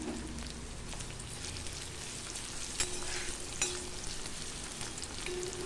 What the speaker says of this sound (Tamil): சின்ன வெங்காயம் வந்து நல்லா வதங்கணுங்க.